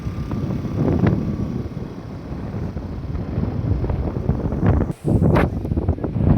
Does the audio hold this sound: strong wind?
yes